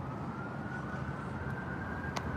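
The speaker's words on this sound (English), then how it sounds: "because I hear sirens everywhere." A distant police siren wails faintly over steady background rumble, holding a fairly level tone without other clear sounds on top.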